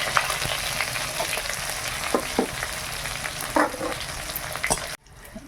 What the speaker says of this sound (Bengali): তেল গরম হয়ে গেছে, কালো জিরা দিয়েছি। এবার পেঁয়াজ, টমেটো আর কাঁচা লঙ্কা দিলাম।